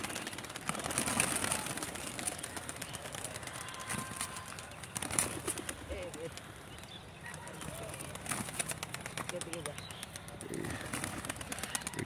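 Pigeons coo softly around a loft while wings flutter and scattered knocks sound, with someone talking over much of the scene.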